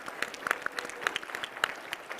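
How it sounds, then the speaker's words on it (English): Scattered claps from a small live podcast-taping audience, a thin patter of individual hands rather than a full roar, fairly faint and steady throughout. "give a quick round of applause"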